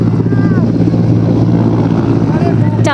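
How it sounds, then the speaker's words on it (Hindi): A helicopter passes very close overhead during a prime minister's visit to a temple complex in Varanasi, giving a loud, steady, low rotor roar and thrum that fills the whole stretch as it stirs up dust. "दोस्तों ये हेलीकॉप्टर बहुत नज़दीक से गया है"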